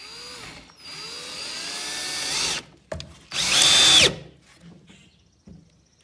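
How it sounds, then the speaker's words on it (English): A power drill whirs in several bursts, its motor pitch rising and falling as screws bite into a wooden bluebird box, with short pauses and clicks between runs. "We're drilling the 4 screws"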